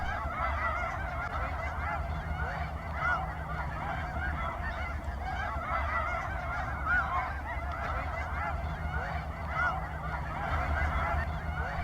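A large flock of snow geese honking continuously while feeding on a river delta, many overlapping calls forming a dense, steady chorus at a moderate distance, with no talking.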